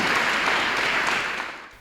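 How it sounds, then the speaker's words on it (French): An audience applauds itself at an education ministry event in the DRC, a dense, steady wash of clapping from many hands that fades slightly toward the end. "je voudrais à travers ça que vous puissiez vous applaudir d'abord vous-même"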